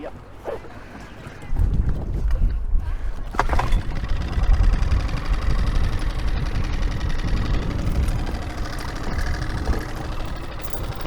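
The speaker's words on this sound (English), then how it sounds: "So I'll get the outboard started and then you can hold the anchor." An outboard motor on a punctured Honwave inflatable boat starts after a quiet moment, then settles into a loud, steady running drone close by, with some light handling noise early on.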